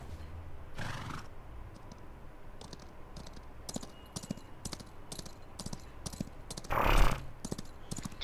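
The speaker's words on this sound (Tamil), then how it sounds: "குதிரை குதிரை குதிரை ஹார்ஸ்" A horse in a video game whinnies twice, loud bursts near the start and end, over a quiet, steady run of clicking hoofbeats.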